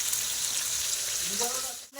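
Spices being sautéed in a pan, a steady loud hiss and crackle of hot oil sizzling close up, continuous for the whole stretch, with brief speech underneath near the end.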